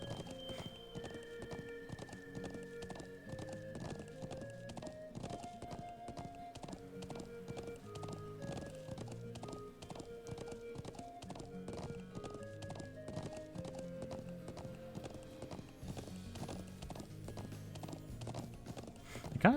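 Horse hooves clip-clop steadily and evenly through a Trails of Cold Steel game scene, with an occasional whinny, sitting beneath continuous melodic background music throughout.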